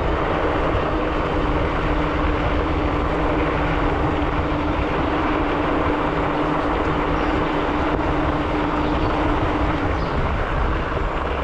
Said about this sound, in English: Let's power up. Accelerating up a hill that I would probably lose my breath if I was walking.